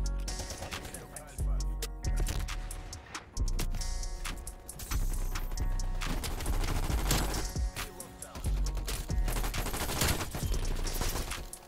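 Vargo 52 assault rifle fire in a video game cracks out in rapid automatic bursts, loud and close, separated by short pauses between strings of shots.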